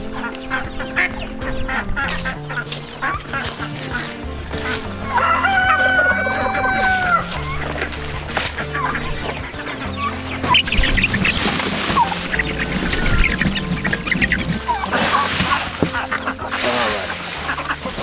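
Chickens in a chicken tractor set in a garden, clucking busily and close by, with a rooster crowing several times over the steady flock chatter.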